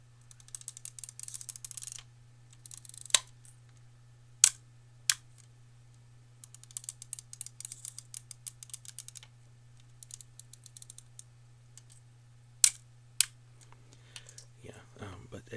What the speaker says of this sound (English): I believe this one had a pretty nice shutter sound as well